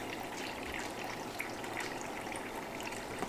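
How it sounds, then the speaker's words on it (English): A faint, steady stream of water pours continuously into a measuring cup, a soft trickling wash with no voices. "just use some water to make 4 cups"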